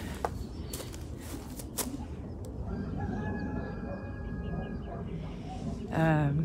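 Chickens cluck and a rooster crows near the end, outdoors over a steady background rumble, with faint clatter early on.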